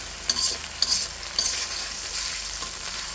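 Masala frying in oil as it is cooked down, with a steady close sizzle throughout and a few sharp spoon scrapes against the pan early on.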